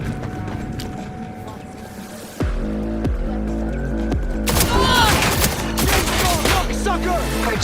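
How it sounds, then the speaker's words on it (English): Gunfire in Cyberpunk 2077 cracks out in loud, sharp bursts, a rapid volley of shots with heavy booming impacts over a steady low rumble, the firing growing denser and more chaotic in the second half. "Heard shots."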